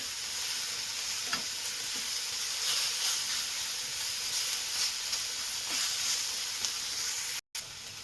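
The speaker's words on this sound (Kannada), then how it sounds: "ಇದೆಲ್ಲ ನೀಟಾಗಿ ಸ್ವಲ್ಪ ಹಸಿ ವಾಸನೆ ಹೋಗೋವರೆಗೂ ಚೆನ್ನಾಗಿ ಫ್ರೈ ಮಾಡ್ಕೋಬೇಕು" Spices and red chili powder frying in a pan for palak pepper chicken, giving a constant close sizzle and hiss with faint stirring scrapes throughout. There is a brief dropout near the end and no talk.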